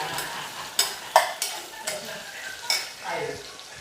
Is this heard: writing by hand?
no